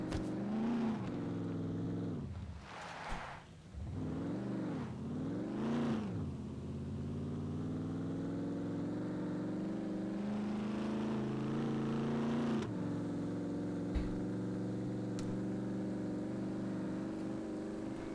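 A car engine in the SCUM survival game, a steady droning motor with several swells of revving early on, then a long even hum at close range with no talk over it.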